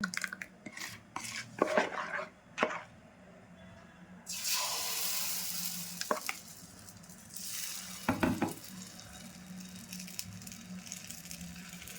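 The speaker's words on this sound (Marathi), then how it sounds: "तवा तापलेला आहे. आता मी आता घालते डोसा." Bhagar and sabudana dosa batter hits a hot tava: a few clinks and scrapes of utensils, then a sudden loud burst of sizzling that fades, followed by more clatter and a second short hiss.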